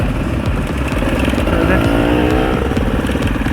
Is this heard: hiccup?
no